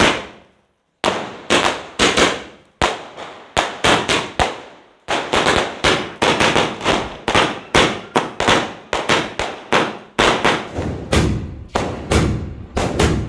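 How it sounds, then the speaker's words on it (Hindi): A 60-shot sky shot fireworks cake fires a rapid string of sharp bangs in irregular bursts, each loud pop followed by a brief decaying tail, close by and with no talk. "सबसे ज्यादा मजा आता है भाई स्काई शॉट में, तो स्काई शॉट ही छुटा रहे हैं हम तो मजे से।"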